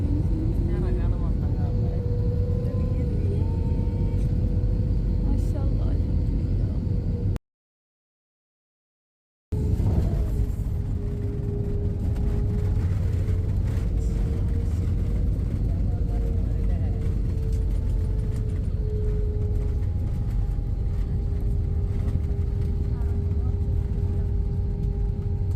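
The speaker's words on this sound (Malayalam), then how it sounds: "ഇപ്പോൾ ഏകദേശം ഫ്ലൈറ്റ് ലാൻഡ് ചെയ്യാനായി." Steady loud airplane cabin roar during the landing approach at Phuket, a constant low rumble with a faint engine whine, broken once by a couple of seconds of dead silence.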